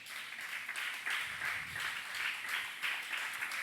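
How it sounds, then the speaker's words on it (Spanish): A church congregation claps together in steady, rhythmic unison, a soft and somewhat distant patter repeating at a regular pulse with faint low rumbles underneath. "Denle una ofrenda de palmas al Señor."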